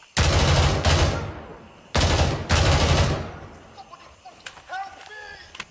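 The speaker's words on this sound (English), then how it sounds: "the bullets just like ricocheting off the guy's freaking armor" Two long bursts of rapid automatic gunfire in the video game Gray Zone Warfare, loud and close, each lasting about a second, followed by quieter scattered impacts and faint sharp pings of bullets striking armor.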